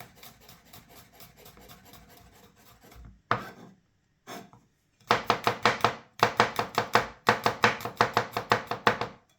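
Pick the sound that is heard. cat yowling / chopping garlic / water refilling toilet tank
chopping garlic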